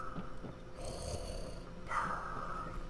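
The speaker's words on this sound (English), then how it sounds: "you can hear him breathing in the gas mask" Heavy, rasping breaths drawn in and pushed out through a gas mask, a slow muffled rhythm close up like a snoring hiss, swelling louder near the end.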